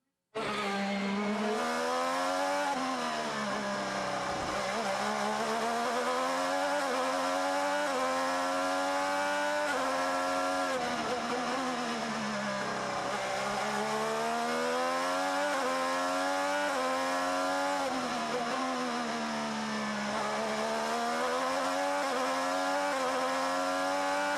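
IndyCar race cars at the Long Beach Grand Prix street circuit scream past one after another. The loud high-pitched engines rise and fall in pitch as each car approaches and recedes, with no speech.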